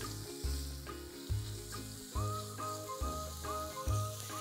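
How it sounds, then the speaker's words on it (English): Onion, ginger and garlic fry in a pan, a soft continuous sizzle heard under rhythmic background music with a repeating beat. "You just wanna fry off your onion, ginger, and garlic just for a few minutes until it's really nice and soft."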